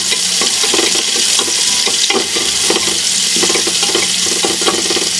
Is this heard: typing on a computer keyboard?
no